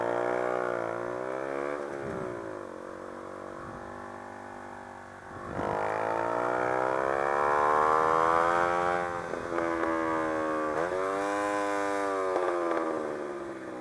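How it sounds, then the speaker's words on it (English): A wailing siren rises and falls in traffic over the steady drone of a small motorcycle engine, its pitch sweeping up and down continuously and swelling louder midway. "Where is that siren coming from?"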